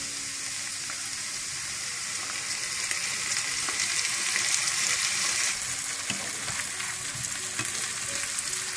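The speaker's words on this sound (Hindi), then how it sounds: "इसको अच्छी तरह से मिक्स कर लूंगी।" Golden fried potatoes with cream being mixed in a pan, a steady broadband sizzle with soft scraping stir noises running throughout, close and continuous with no talking.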